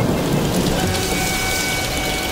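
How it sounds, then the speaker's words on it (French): Steady rain falls in a dense, constant hiss, loud and close, with no voices. "Ah bah tiens, la pluie, zut alors."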